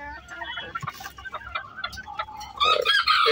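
Native country chickens cluck and call repeatedly on a farm, with one bird growing louder and more insistent toward the end, a busy close flock with no talking.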